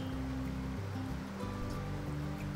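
The clear Saloompt River flowing near its junction with the Bella Coola River in British Columbia, a steady, fairly loud rushing wash of water with no talking.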